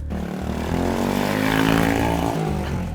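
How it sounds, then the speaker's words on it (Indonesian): A loud engine roars close by, its pitch climbing and swelling as a motorcycle passes, then easing off slightly. "Gila tuh motor."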